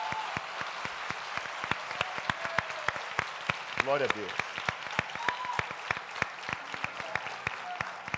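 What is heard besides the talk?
congregation applauding at a church baptism service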